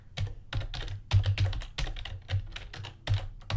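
Fast typing on a computer keyboard, a close run of clicky keystrokes in quick bursts with brief gaps, and no voice over it.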